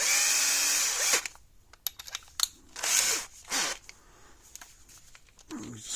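A power drill fitted with a step bit enlarges a hole in the housing of a water-damaged Parmak solar fence charger, sounding as a loud steady whine, then several short bursts of drilling with pauses between them.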